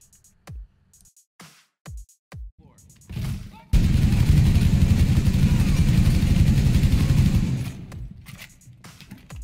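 Gunfire in Rainbow Six Siege rips through barricades: a few separate shots, then a long, loud, continuous automatic burst lasting several seconds before it cuts off.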